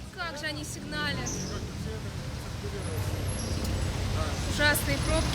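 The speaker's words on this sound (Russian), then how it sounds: "Ужасные пробки, ужасный шум." Steady roar of busy, jammed Manila street traffic with passing engines, including a bus, a voice speaking over the din and scattered horn-like tones.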